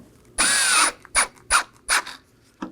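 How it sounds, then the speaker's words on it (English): A power driver drives T15 Torx screws into the grille of a 2018-2024 Chevrolet Equinox bumper cover: one longer whirring run, then four short, sharp bursts as the screws snug down, loud and close. "Now for our 6 T15 Torx screws on the grill."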